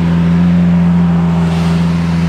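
A Lamborghini Aventador idles loud and close while being parked, its deep, even engine rumble holding steady with no revving.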